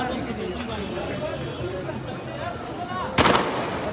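Artillery fire in Kunar province, Afghanistan: one sharp, loud blast cracks out near the end over a continuous wash of crowd noise and people talking.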